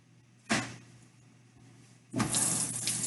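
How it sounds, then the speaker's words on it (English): Kitchen tap water gushes on briefly, stops, then runs again steadily as hands are rinsed after handling raw meat, close and clear over a low background hum. "rinsing my hands off."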